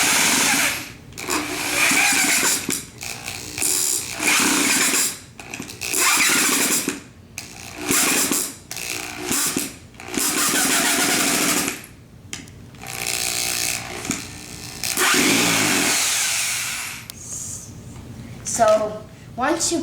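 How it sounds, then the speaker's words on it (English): A power drill drives four screws into wood while assembling a low-cost wooden Wing Chun training dummy, with repeated whirring bursts separated by short pauses and a person talking in between. "So you want to drill 4 screws just like this."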